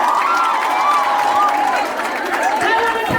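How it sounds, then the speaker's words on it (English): A studio audience in Kenya claps and cheers for two guests. The crowd noise is loud and continuous, with scattered shouts and voices rising over steady applause throughout. "Give a round of applause for our favorite guys"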